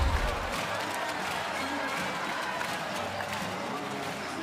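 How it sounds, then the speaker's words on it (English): A basketball crowd roars steadily inside the Cairns Convention Centre during an NBL game between the Cairns Taipans and Sydney Kings, a dense, continuous wall of cheering and noise that holds loud throughout. "The crowd rising at the Cairns Convention Centre."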